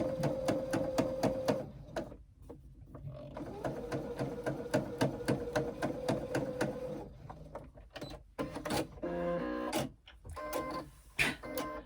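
A domestic sewing machine runs a quarter-inch seam with a quarter-inch presser foot, its needle chattering in steady rapid rhythm for several seconds, pausing, then resuming, ending in brief clicks and handling noises close by.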